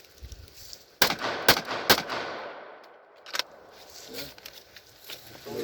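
Several loud gunshots fired through a vehicle door at a target, a quick burst of three sharp cracks followed by a lone later shot, with a faint voice in between.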